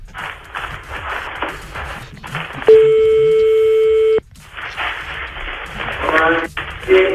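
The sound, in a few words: telephone call transfer tones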